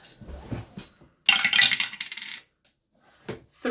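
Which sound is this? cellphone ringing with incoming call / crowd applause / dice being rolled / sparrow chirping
dice being rolled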